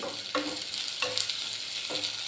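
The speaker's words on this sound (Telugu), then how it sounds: "ఉల్లిపాయ ముక్కలు వేగిన తర్వాత కొంచెం వేగాలి." Onion pieces fry in ghee in a pan for vegetable masala rice, giving a steady close sizzle with three brief scraping stirs spaced about a second apart and no voices.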